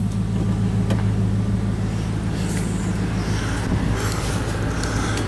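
A 2007 GMC Denali engine holds a steady raised idle, its deep rumble and low hum continuous and loud throughout, with no voices present.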